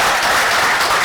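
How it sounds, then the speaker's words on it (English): Brief burst of steady audience applause after a startup talk at a developer conference, many hands clapping together loudly in a room. "Clap तो कर दो"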